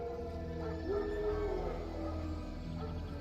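Wild dogs howling in the video game The Witcher 3, faint drawn-out tonal howls rising and falling under a low ambient game background.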